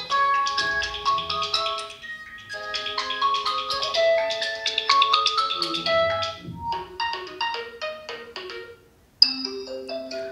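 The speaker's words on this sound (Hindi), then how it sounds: "स्पीकर्स की क्वालिटी मैं आपको चेक करवाने वाला हूँ, स्पीकर्स की कैसी क्वालिटी आपको मिलती है। तो यहाँ से रिंगटोन्स में आ जाते हैं" Several ringtones play one after another through the single bottom speaker of an Oppo Reno 5 Pro 5G phone, bright melodic tones in steady phrases, a short silent break before a final tune starts.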